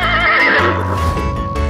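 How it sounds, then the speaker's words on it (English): A horse lets out a loud, close whinny that rises and trembles before trailing off, followed by a faint clip-clop of hooves. "Horse."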